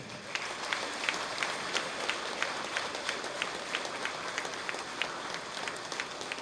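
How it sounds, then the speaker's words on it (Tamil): A seated crowd at a book launch and astrology event claps together in sustained applause, a dense continuous patter with scattered louder individual claps standing out, steady and moderately loud from start to finish. "இந்த மேடையில் இருக்கின்ற அத்தனை பெரியவர்களுக்கு ஒரு கைத்தட்டல் கொடுங்க."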